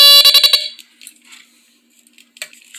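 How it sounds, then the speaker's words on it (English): A Smokeguard 805A smoke detector sounds a loud, shrill rapid burst of beeps up close, then falls to faint clicks and handling noise with brief chirps. "that makes quite an alarm"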